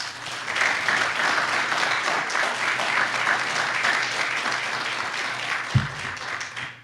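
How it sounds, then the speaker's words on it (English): An audience at a county government address breaks into steady, sustained applause lasting the whole stretch, with a single low thump near the end. "Let's give our departments that I've mentioned a round of applause."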